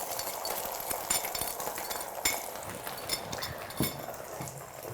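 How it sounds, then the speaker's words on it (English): Green onion and egg batter for a bread omelette frying in hot oil, a soft steady sizzle with occasional clinks and scrapes of a utensil stirring in the pan, no voices. "Add this to the hot oil."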